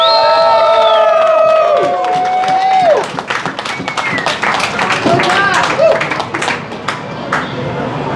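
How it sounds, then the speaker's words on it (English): A large crowd in an arcade bursts into loud applause and cheering, with whistles and shouts rising over sustained clapping. "So give yourself a round of applause."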